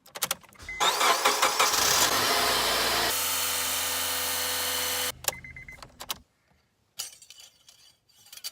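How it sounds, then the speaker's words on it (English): A 2004 Honda Accord LX four-cylinder engine cranks and starts, then runs at a steady loud idle for several seconds before shutting off. A few faint clinks follow in near silence. "we're gonna go ahead and cycle the engine, let that run for a little bit"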